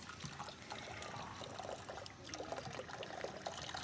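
A child washes their hands under running water, a steady trickling and pouring stream that lasts throughout, close and moderately loud with no talk over it.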